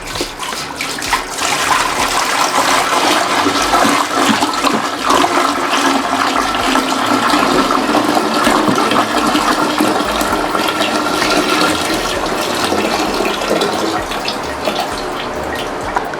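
Five litres of 12% white distilled vinegar pour steadily into a container, making a loud, continuous gushing splash that holds evenly for about fifteen seconds before easing slightly near the end.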